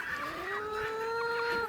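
Chickens and roosters in a large flock call out, a drawn-out rising squawk carrying over steady background noise, close and moderately loud.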